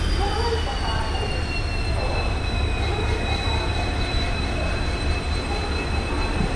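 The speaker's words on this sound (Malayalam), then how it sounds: "ഇവിടെ ഒരു വാപ്പ് 7 ഹോളിൽ ട്രെയിൻ കയറി വരുന്നുണ്ട് 30644" A train pulled by a WAP-7 electric locomotive (number 30644) rolls into Shoranur station, a loud continuous rumble of wagons with sustained high wheel squeal drawn across the whole stretch.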